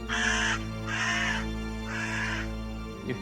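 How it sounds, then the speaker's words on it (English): A crow caws three times in slow, evenly spaced harsh calls, fairly close and clear over a steady low hum, followed by a shorter fourth call at the very end. "a crow cawing, looking for food"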